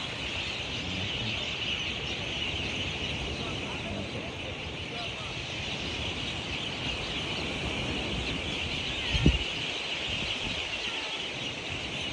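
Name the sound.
many birds at the seaside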